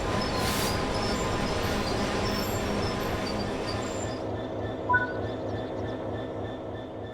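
A train slowing under braking in Train Simulator 3, a steady loud rumble of wheels and running gear with a faint brief squeal near the end, no voices.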